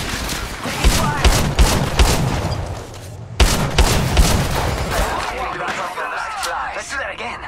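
Gunfire in the mobile shooter Apex Legends Mobile, playing Caustic: loud, close bursts of rapid shots with sharp booming hits, several clusters over several seconds, then a busier mix of shots and in-game sounds.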